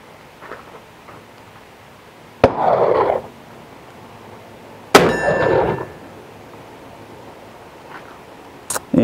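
A .38 Smith & Wesson No. 2 revolver fires twice, each shot a sharp, loud crack with a ringing tail, a few seconds apart, followed by the start of a third at the end.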